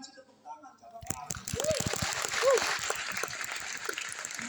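A church congregation at a Sunday sermon in Jakarta breaks into applause after about a second of near quiet, the clapping continuing steadily under voices and a few higher calls.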